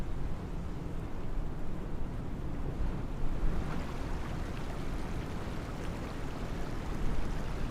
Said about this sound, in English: Oh, there's even noise from the water.